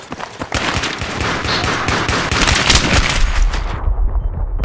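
Rapid automatic gunfire from a first-person shooter match, a loud dense burst of shots rattling continuously for several seconds before cutting off, with no voices over it.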